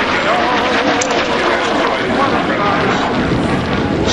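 A historic aircraft flies overhead at an air display, its engine a loud, continuous roar that fills the whole stretch. Faint talk may sit beneath it.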